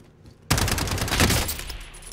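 Sniper fire in Call of Duty Warzone: after a quiet moment, a sudden loud shot with dense crackling gunfire that fades over about a second and a half.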